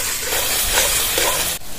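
Spice masala with turmeric and salt frying and being stirred in a pan for an egg biryani, a close, steady sizzle with scraping stirs that cuts off abruptly near the end; no talking.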